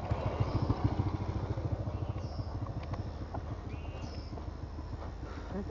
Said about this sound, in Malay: Tengok motor.